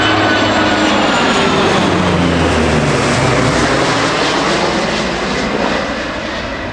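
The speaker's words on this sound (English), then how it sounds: "First up on a dark and wet morning was the heavy metal flyby of the Boeing 757 and P3-K Orion aircraft." Boeing 757 and Lockheed P-3K Orion military aircraft make a heavy flyby on a dark, wet morning, a loud sustained engine roar with sweeping propeller and jet tones that slowly fades toward the end.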